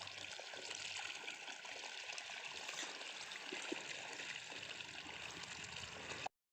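Irrigation water trickles slowly into a village chili field, a soft, steady gurgling flow heard faintly and continuously with no one talking.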